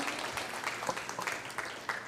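Audience applause at a talk on planning a healthy menu, a steady spread of many hands clapping at moderate distance with small swells throughout, no voices over it.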